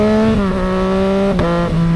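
Yamaha XSR900 motorcycle engine revving hard during a wheelie attempt, loud and close, with the pitch dipping and stepping between gear changes and throttle blips.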